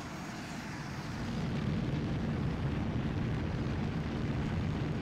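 Engine of a Tornado fighter jet in Microsoft Flight Simulator, a deep steady roar that swells louder after the first second and holds as a dense, rumbling jet drone.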